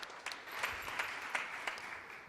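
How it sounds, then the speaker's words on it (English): Audience applause at a data festival plenary session, a faint, distant wash of clapping from a crowd that continues evenly, with a few sharper individual claps standing out. "Let's have another round of applause for everyone."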